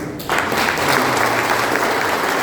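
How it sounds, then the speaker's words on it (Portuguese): Audience at a church family gathering breaking into applause, dense clapping that starts abruptly after a brief moment and continues strongly to the end. "mais uma salva de palmas."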